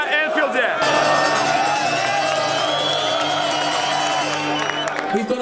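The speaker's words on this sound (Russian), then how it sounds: "вот так вот болельщики Ливерпуля перед игрой разминаются" Liverpool supporters at Anfield sing and cheer before a match, a dense, loud crowd roar with sustained chanting and shouts filling the whole stretch.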